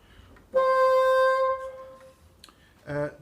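One high C on a bassoon, an octave above middle C, held clearly for about a second, thin and reedy, played alone, followed by faint clicks and a brief breathy sound.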